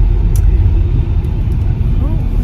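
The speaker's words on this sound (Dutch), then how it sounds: "En nu zit ik in de auto bij mama." Steady low interior rumble of a car driving along a road, continuous and fairly loud throughout with no clear gear changes.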